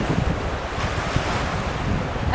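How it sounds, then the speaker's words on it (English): Strong gusts of around 30 knots buffet a boat under way with small craft warnings, a loud, continuous roar of wind noise across the microphone mixed with rushing water. "Feel those gusts? Those are 30 gusts."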